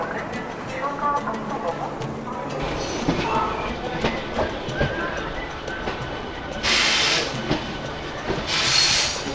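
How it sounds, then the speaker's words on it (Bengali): A Howrah–Chandanpur local train rumbles and clatters along the tracks with brief high squeals, while people talk nearby throughout. "এই হচ্ছে আমাদের ট্রেন দিয়ে দিয়েছে দেখতে পাচ্ছ হাওড়া চন্দনপুর লোকাল"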